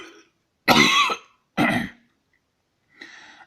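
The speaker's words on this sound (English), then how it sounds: "So my solution is to force a cough like this one." A person forces two sharp, close coughs to stop hiccups, each a short throaty burst separated by a pause, with faint breathy sounds before and after.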